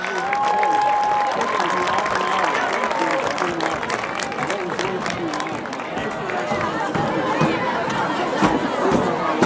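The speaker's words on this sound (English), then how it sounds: "Your St. Albert dance team, one more round of applause." Crowd applause and cheering for a high school dance team at a football game halftime, a broad steady wash of clapping and chatter, with a public address voice speaking over it.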